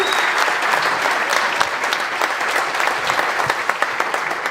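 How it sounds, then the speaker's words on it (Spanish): A church congregation applauds for Jesus, a dense, steady wash of clapping hands that fills the room evenly for several seconds, with no break or clear voice on top. "Fuerte ese aplauso para Jesús."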